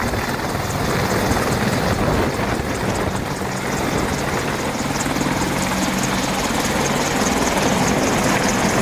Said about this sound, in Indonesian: Ada helikopter perang.